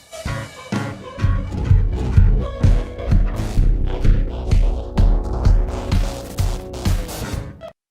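Inverted morph mode of the Transmutator crossfade plugin spectrally blending two inputs produces a dense, loud, continuous musical mix with rhythmic low thumps and bright bursts on top, alone without speech.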